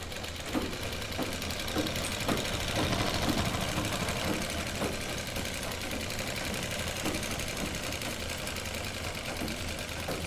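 Sewing machine stitching a lined kurti, a steady mechanical whir with rhythmic needle ticks running continuously at moderate level throughout.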